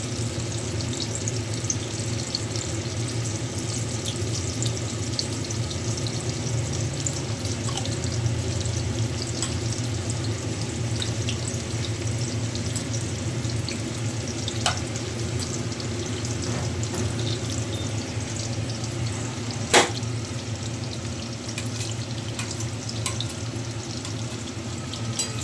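Potatoes fry with salt in a wok, giving a steady, even sizzle the whole way through, with soft stirring scrapes and one sharp clink near the end.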